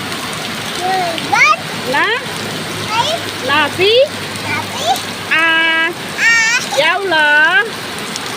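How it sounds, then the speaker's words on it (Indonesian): Rain pours steadily outdoors in a village while people bathe in it, a constant wash of falling water under a voice that sings and speaks over it throughout. "Senang mandi hujan. Mandi hujan senang."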